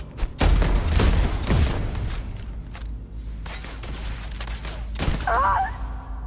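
Shotgun blasts in the Starfield video game, several heavy booming shots spaced across the stretch amid other in-game combat noise, close and loud.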